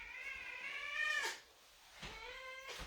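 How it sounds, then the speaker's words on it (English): Stella, a big fat pet cat, lets out two long, drawn-out meows close by, the first stretching over a second and the second shorter, with a quiet room tone between them. "This is our other kitty cat."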